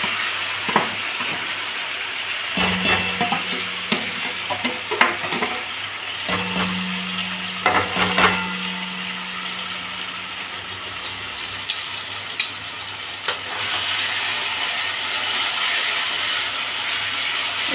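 Boiled raw banana and potato stirred in a frying pan with cinnamon-tempered oil for banana kofta: a soft frying hiss under intermittent spatula scrapes and light metallic clicks, close by.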